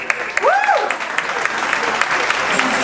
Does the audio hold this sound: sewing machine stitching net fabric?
no